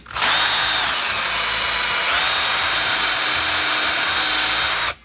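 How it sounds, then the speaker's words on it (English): A power drill whines steadily at high speed for several seconds, boring continuously into wood up close before cutting off abruptly. "you start to drill going straight down"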